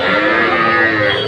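A young calf at a cattle market moos once, a single loud, close, sustained call that fills the whole moment with no talk over it.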